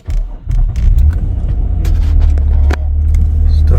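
A 2009 Nissan Maxima engine catches and settles into a steady, close, loud idle rumble that runs to the end, with no voices.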